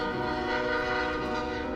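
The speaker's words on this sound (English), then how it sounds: "Little Red hopped onto the train, and they chugged quickly down the line." A train horn sounding a steady, loud, sustained chord over a continuous rumble of the moving train, heard alone with no voices.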